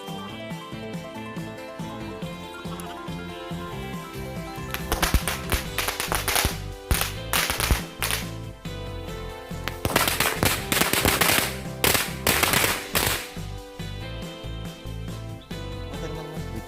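A pack of smoke SMS 2 tor firecrackers bursting in rapid strings of sharp cracks, building into dense crackling volleys with brief pauses, loud and close with no talk.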